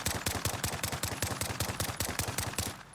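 Modded rapid-fire pistol shots in the Modern Warfare video game, firing about ten rounds a second. A fast, even stream of sharp cracks runs without a break for nearly three seconds, then stops.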